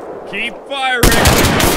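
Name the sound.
gunfire in video game Mud and Blood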